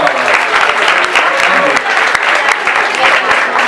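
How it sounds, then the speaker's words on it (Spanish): Audience applause in a lecture setting, a dense, steady wash of many hands clapping close by, sustained at even loudness throughout. "Muy bien, un aplauso."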